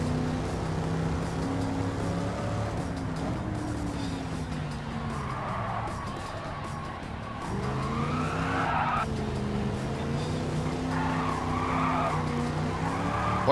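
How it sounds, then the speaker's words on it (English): A Pontiac Firebird in a racing game on the Trial Mountain track skids after the e-brake is held too long, with a steady engine drone and rising and falling tire squeals throughout. "Hit the e-brakes too long there."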